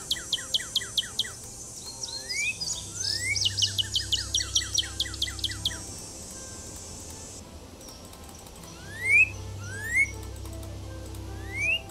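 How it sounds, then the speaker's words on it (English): In the Nancy Drew: Ghost Dogs of Moon Lake game, a cardinal sings clear rising slurred whistles, repeated in bursts with quick chips, against a faint outdoor backdrop of insects and rustling. "Cardinal song!"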